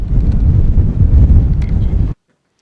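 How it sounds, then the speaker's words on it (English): Strong wind buffets the microphone at an outdoor RC model flying field, a loud continuous low roar for about two seconds that cuts off abruptly into near silence. "the wind's coming up"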